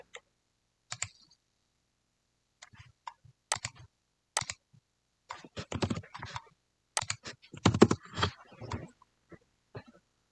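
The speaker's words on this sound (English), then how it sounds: "you're going to type out that address that was on that same page as well" Someone types on a computer keyboard in short irregular bursts of light key clicks, sparse at first and denser later, close and quiet, with no talking.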